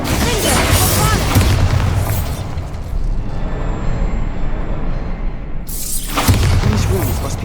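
Bombarda blasting spell exploding in Hogwarts Legacy: loud, booming detonations with crashing debris and rumble, a quieter stretch in the middle before another heavy blast near the end.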